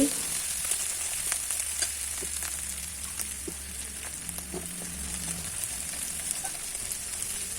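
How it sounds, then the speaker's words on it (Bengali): Onion and crushed garlic frying in a pan, a continuous close hiss and crackle of oil with occasional soft stirring ticks, steady and even throughout. "পেঁয়াজ রসুন একটু ভাজা ভাজা করে নিচ্ছি"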